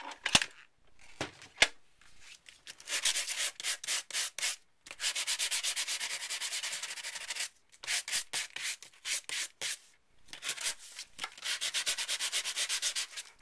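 Repeated bursts of sanding as embossed cardstock is rubbed on a tabletop to expose its white core, coming in rhythmic scratchy passes separated by short pauses, close and fairly loud with no talking.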